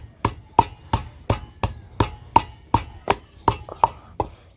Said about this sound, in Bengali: এখন আদা কেটে নিছি, আদা ছেঁচে নিব